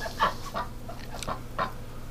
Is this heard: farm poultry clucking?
yes